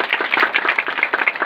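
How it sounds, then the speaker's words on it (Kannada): Audience applause at a birthday celebration event in Kalaburagi, a steady, dense patter of many hands clapping close by, with no pauses throughout. "ಚಪ್ಪಾಳೆ ಬಿಡ್ರಿ ಚಪ್ಪಾಳೆ ಬಿಡ್ರಿ ಚಪ್ಪಾಳೆ"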